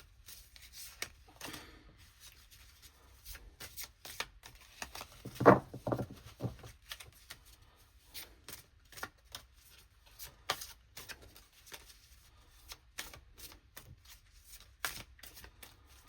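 Tarot cards are shuffled by hand close to the microphone in quiet, irregular riffles and soft taps, with one fuller shuffle in the middle and no talking.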